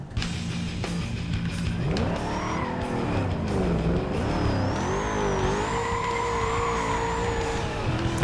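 Corvette engine in the racing video game Need for Speed Most Wanted (2005) revs and drones continuously, with pitch sweeping up and down through gear changes and tire squeals layered over it, loud and steady with no talking.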